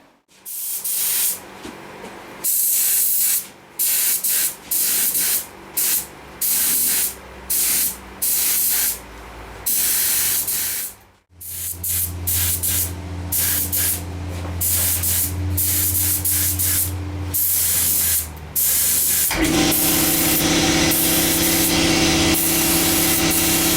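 A spray gun shoots lacquer primer onto wheels, a loud steady hiss in long bursts with brief pauses between passes, ending in a continuous spray.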